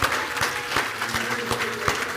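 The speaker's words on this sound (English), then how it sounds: "Let's keep clapping for him." Applause from an audience at a product launch event, a steady patter of many hands clapping across the whole stretch, fairly close and uninterrupted, with no voices over it.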